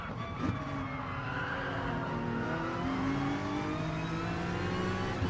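Race car engines roar in a racing video game, several cars revving and droning together at steady high volume as one closes up behind another, pitch rising and falling continuously with no pause.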